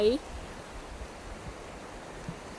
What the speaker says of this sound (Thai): อันนี้ก็จะเป็นน้ำไหล